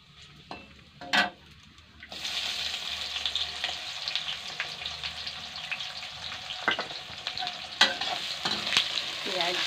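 Finely chopped onions fry for banana kofta, a steady hiss of sizzling with scraping stir strokes and a few sharp clinks. The sound is close and continuous after a quieter start, with no talking.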